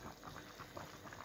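Pumpkin soup puree with broth and potato bubbles steadily in a pot, a soft continuous boiling burble with small pops, faint and close.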